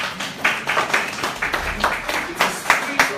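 Audience at an event in Abuja clapping, a scattered, uneven patter of many hands that stays fairly light and brief under a busy room.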